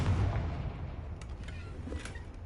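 Confringo explosive spell cast in the video game Hogwarts Legacy, a heavy rumbling boom at the start that fades into a low roar, followed by a few faint crackling bursts.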